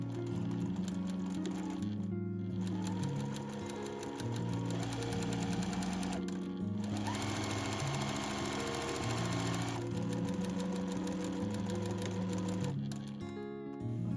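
Sewing machine running steadily while stitching a dress seam, a continuous rapid mechanical rattle with a few brief pauses and restarts, close and unaccompanied by speech.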